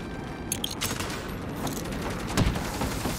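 Gunfire in the video game Saints Row during a co-op firefight, heard as a dense, steady rattle of rapid shots over constant low rumbling game noise, with one heavier crack near the end.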